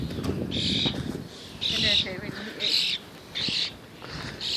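A pet bird calls in a series of loud, rhythmic squawks outdoors on a morning walk, four or five bursts spaced about a second apart, with a person talking in between.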